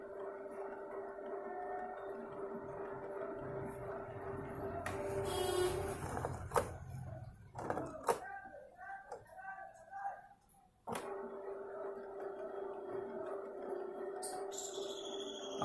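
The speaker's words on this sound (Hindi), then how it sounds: "इसमें प्रिंटर में से आवाज आ रही है, वो रीसेट हो रहा है" Canon ink tank printer resetting and pumping ink through its lines: a steady mechanical hum, then bursts of whirring, clicks and rising motor tones, a pause and the hum again, with a voice speaking over it.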